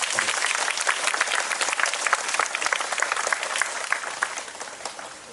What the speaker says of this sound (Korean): 여러분 응원의 박수를 한번 보내드릴까요?